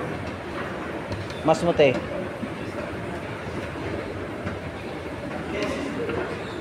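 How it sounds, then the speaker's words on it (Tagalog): A train passes at a moderate distance with a steady rumble and faint clickety-clack of wheels on rails, while a person speaks briefly over it. "Yan, yan yung train."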